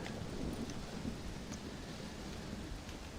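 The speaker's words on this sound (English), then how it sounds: "Well, it's just the storm, John." A thunderstorm in a Western video game cutscene: steady hiss of rain with a faint low rumble beneath it, distant and even, with no talking.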